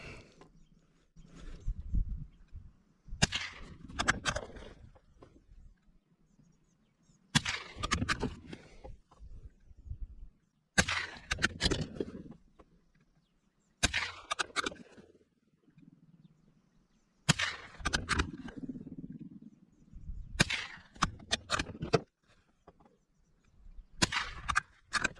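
A .22 LR rimfire rifle fires a string of single shots, sharp close cracks spaced a few seconds apart, with quiet handling and shuffling noises between them.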